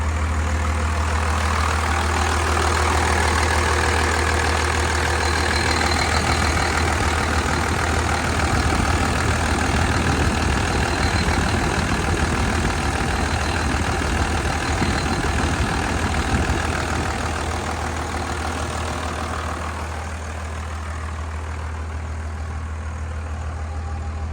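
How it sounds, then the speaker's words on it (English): A Cummins 12-valve diesel engine in an original barn-find truck idles with a steady, deep rumble, running loud and even, then settling slightly quieter near the end, with no talk over it. "we'll start it up for you. You guys can hear it purr."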